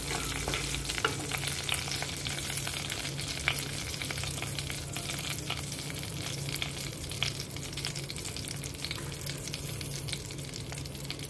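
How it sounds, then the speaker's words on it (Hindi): Royal cumin seeds spluttering in hot oil over low heat with cloves, a steady close crackle and sizzle with scattered sharp pops throughout. "और आधा चम्मच शाही जीरा। इसे तड़कने देंगे।"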